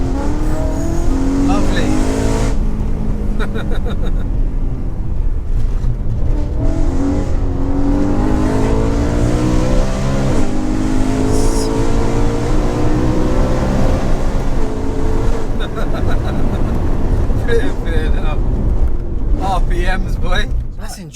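A car engine revs hard toward roughly 9,000 RPM, rising and falling in loud sweeping pitch close to the microphone, with people speaking over it from inside the car.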